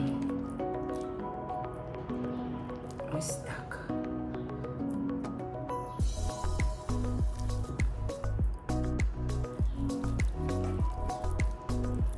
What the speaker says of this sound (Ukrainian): Вмочуємо руки у воду і виробляємо наші січеники.